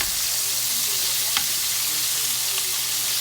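Chicken pieces sizzle steadily and loudly in hot frying oil while being flipped, with a faint tap or two of the utensil against the pan.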